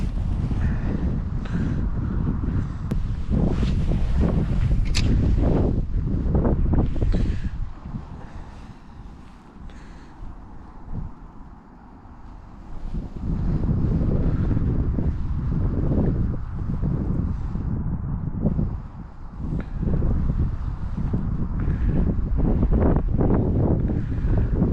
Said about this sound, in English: Still got this wind to contend with as well, still a bit of a crosswind.